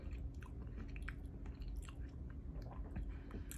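Someone chews a Reese's candy bar with pretzels close to the mic, giving steady crunchy, moist bites with no talking.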